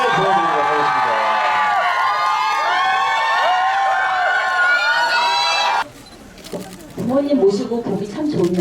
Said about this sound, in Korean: 큰 환호성을 지르시는 분들에게.